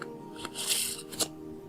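Playing cards riffle in a false faro shuffle, a few short fluttering bursts followed by a crisp snap, close and clear with no talking.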